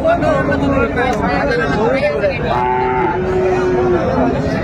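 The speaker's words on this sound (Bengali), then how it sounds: "শাহিওয়ালের ষাঁড় বাচ্চা আমরা দেখছিলাম।" A Sahiwal bull calf at a cattle market in Gazipur moos loudly and close by in drawn-out calls, while people talk around it.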